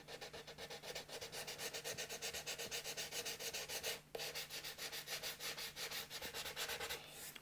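Hand-sanding with 240 grit sandpaper to feather a paint edge on a Squier Stratocaster body being refinished, a close, rhythmic rasp of quick back-and-forth strokes with one short pause midway.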